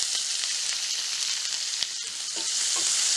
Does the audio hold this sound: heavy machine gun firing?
no